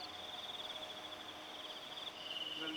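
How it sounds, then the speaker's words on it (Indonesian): Crickets chirp in a steady, high, rapidly pulsing trill near a beach at night, faint but continuous, with a second chirping insect joining near the end. "Lalu kan bunyi jangkriknya mbak"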